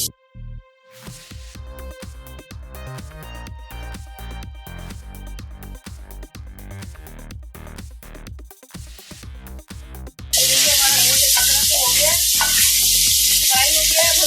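Onions and goat meat for arvi gosht hit a hot pot with a sudden loud, steady sizzle that fills the last few seconds, following a stretch of background music with no frying.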